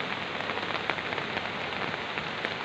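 Steady, dense rain falls on a cliff above the Mboyong River on Mount Merapi, a continuous close hiss with scattered drop patter and no voices.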